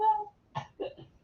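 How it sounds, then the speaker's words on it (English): A person watching a Chelsea versus Aston Villa football match gives a few quiet, short coughs in quick succession, close by, after a brief faint vocal sound. "Started coughing again."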